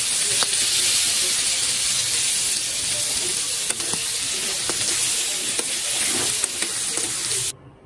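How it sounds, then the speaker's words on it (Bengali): Capsicum frying and being stirred in a pan, a loud continuous sizzle with scraping stirs and small crackles, ending abruptly in near silence. "এখানে কয়েকটা ক্যাপসিকামও ভাজলাম"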